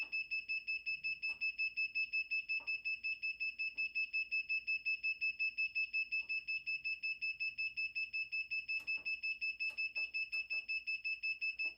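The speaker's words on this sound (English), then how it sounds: "I'm not sure what that beeping means." A heat press gives a steady, loud electronic alarm tone continuously with a faint repeating pulse, accompanied by a few scattered soft clicks and taps.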